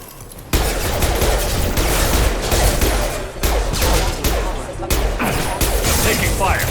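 Gunfire from the video game Mass Effect: Legendary Edition rattles out in sustained, loud automatic bursts after a sudden start, with brief pauses and impacts, and voices speak in the mix.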